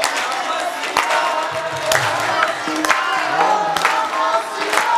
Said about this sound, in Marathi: बोला की टाळी वाजवा सर्वांनी